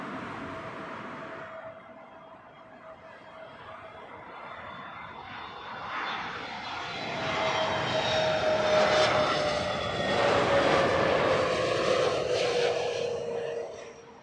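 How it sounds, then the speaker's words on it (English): A passenger airliner comes in to land on runway 27 left at Heathrow, its engine roar swelling steadily from a distant hum to a loud, broad rush overhead, with a descending whine running through it. "Runway 27 left, clear to land at Portugal 364."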